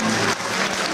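Audience applause at a live swing-band evening in Loosdrecht, a brief dense burst of clapping from a crowd, fairly loud and unbroken.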